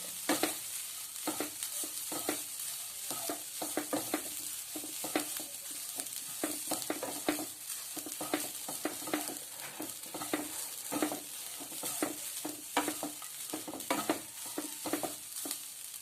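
Grated coconut roasting in a pan, with a steady dry sizzle and rapid, irregular scraping strokes of stirring that run close and continuous throughout, no voices.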